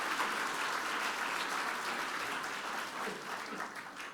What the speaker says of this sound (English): a round of applause for Sentosa and a round of applause for RWS